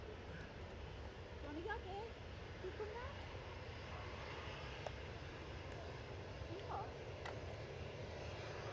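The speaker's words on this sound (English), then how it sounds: "We've got a Ryanair just creeping out." A Ryanair jet, operated by Malta Air, creeps out on the taxiway at Manchester Airport, heard as a distant, steady engine drone under faint background voices and occasional small chirps.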